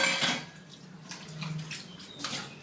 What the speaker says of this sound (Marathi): नळाला पाणी खूप स्पीडने येतं